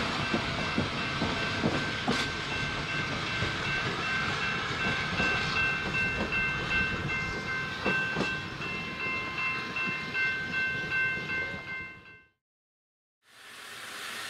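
Virginia & Truckee steam train number 29 rolls in to Eastgate, a steady loud rumble of wheels and cars with faint clickety-clack and hissing tones, then cutting off abruptly near the end before resuming briefly.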